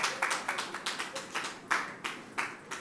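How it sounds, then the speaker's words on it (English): Sparse, quiet clapping at a presidential investiture ceremony for the president, distinct hand claps in an uneven rhythm, a small handful of people rather than a full crowd. "Let us give her another great round of applause."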